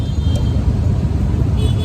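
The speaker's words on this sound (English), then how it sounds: "Canggu traffic is just not it." Cars and motorbikes rumble past on crowded, narrow roads in Canggu, Bali, a loud, close and continuous engine drone with no clear gaps.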